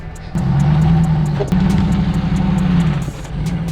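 A pickup truck stuck on slippery ground revs its engine hard, the loud close drone rising and holding in repeated surges with slight pitch shifts between them.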